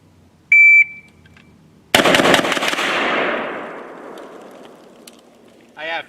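A Korean-made rifle cuts loose in a rapid burst of shots after a short electronic beep, the sharp cracks trailing off into a long echoing decay, followed by another brief tone.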